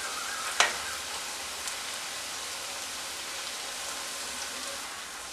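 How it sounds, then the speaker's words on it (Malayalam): Snacks are deep-fried in oil, giving a steady, fairly soft bubbling crackle with one sharp tap near the start. "നമ്മളിവിടെ തയ്യാറാക്കി വെച്ചിരിക്കുന്ന ഓരോ സ്നാക്കും ഇട്ട് കൊടുത്ത് ഫ്രൈ ആക്കിയെടുക്കുക."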